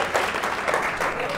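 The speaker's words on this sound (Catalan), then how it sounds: "Aplaudiments, sisplau." Studio audience on the Catalan TV word game Pica Lletres, Canal Terrassa, bursting into steady, dense applause that holds at an even level throughout the short burst, with no speech over it.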